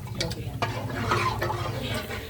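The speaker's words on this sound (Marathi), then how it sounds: "तर पहिला घावणा आपण टाकूया." Ghavan batter is poured onto an oiled pan and starts to sizzle, with soft scraping and clinks close by under a continuous frying hiss.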